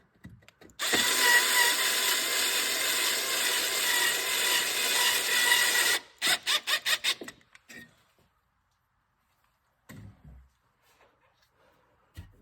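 A power driver tightens screws on an accumulator mount inside a vehicle fender: one long steady whir of several seconds, then a rapid string of short ratcheting bursts, followed by quiet with a few faint knocks.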